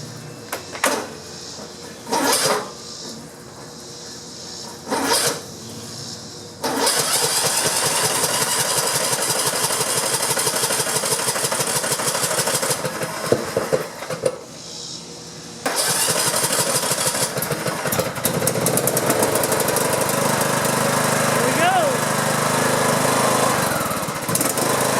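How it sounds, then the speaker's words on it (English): A gas lawn mower engine gets pulled to start after refueling and a fuel-leak check. After a few short cranking bursts it catches and runs loud and steady nearby, cuts out briefly, then restarts and keeps running. "Turn it on, check for leaks. Alright, let's see if she'll fire up."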